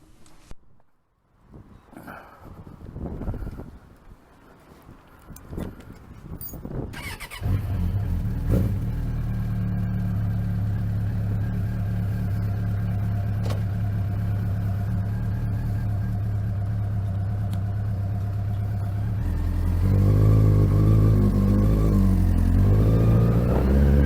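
A Suzuki project motorcycle starts up on a cold day for its first test ride: scattered clunks and handling noises, then the engine catches and holds a steady close idle, swelling into a louder rumble as it pulls away.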